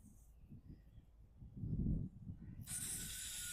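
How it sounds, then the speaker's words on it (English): A pump garden sprayer hisses steadily with homemade weed killer for about a second near the end, following a brief burst of rustling and low thumps. "Very carefully spray these little guys."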